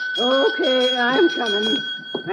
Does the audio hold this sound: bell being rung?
yes